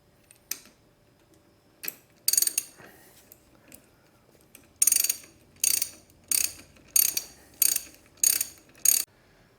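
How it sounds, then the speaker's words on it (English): Ratchet tightening the crankshaft nut on a KTM/Husky two-stroke engine, a series of short sharp clicking bursts in an even rhythm, close and clear over near silence. "torque the nut to 100 Newton meters"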